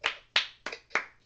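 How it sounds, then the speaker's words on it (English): Four sharp hand claps ring out close and evenly spaced, one person or a small group of friends giving a quick round of applause. "Do a round of applause, my guy"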